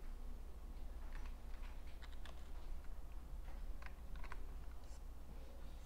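Fingers tap out text on a computer keyboard in short, uneven bursts of light clicks, close but fairly soft over a low background hum.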